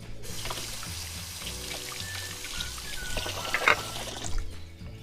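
Rose apples, a local Thai heirloom variety, being rinsed under running tap water, with a steady pour and trickle splashing throughout and a few brighter splashes near the end.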